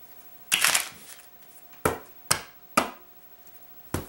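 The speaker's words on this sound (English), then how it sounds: "you have the spectator shuffle up the cards" Playing cards are handled in several sharp, brushing bursts: one longer riffle, then four short snaps spaced apart, close and crisp in a quiet room.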